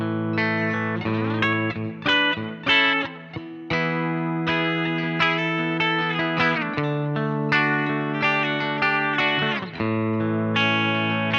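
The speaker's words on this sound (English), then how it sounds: "We'll do the clean tones first, starting with the bridge pickup." A G&L Tribute Series ASAT Classic Bluesboy electric guitar on its bridge pickup with a clean tone plays a steady run of bright single notes and chords, up close and alone, with no talking.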